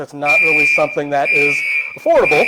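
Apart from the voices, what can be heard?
building fire alarm going off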